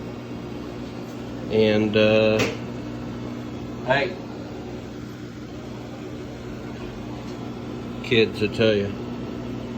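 New red aquarium fishroom lights give off a continuous low electrical hum with a tonal buzz that runs unchanged underneath someone talking in short bursts.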